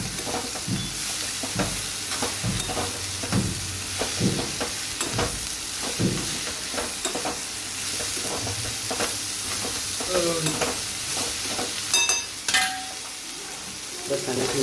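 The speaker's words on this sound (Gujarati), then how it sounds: "સરસ બધું મિક્સ કરી લઈએ." Chopped cabbage being stirred and mixed in a hot cooking pan, with repeated scraping strokes of a spoon at an uneven rhythm over a constant soft sizzle, close and fairly loud.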